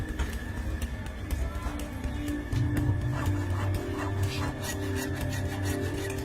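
Steady rasping strokes of a hacksaw grinding through steel bars, continuous and close, with a low rumbling hum underneath.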